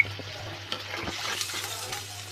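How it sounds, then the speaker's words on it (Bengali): Spiced masala for a river-fish curry frying and being stirred in a pan as water is poured in, a steady close sizzle with scraping stirs and small splashes, no voices. "এখন আমি পরিমাণ মতন ঝোল দিয়ে দেবো"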